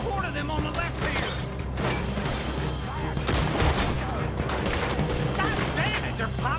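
Rapid gunfire from Red Dead Redemption 2 gameplay during a fight against a horde, with sustained volleys and overlapping shots, loud and dense throughout, with a voice shouting amid the shooting.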